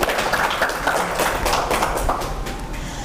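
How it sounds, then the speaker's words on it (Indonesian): Audience members at a women's political education forum in Banten, Indonesia clap for the guest speakers. The applause is close, short and fairly sparse, with individual claps audible, and ends within about three seconds. "Tepuk tangan boleh buat narasumber."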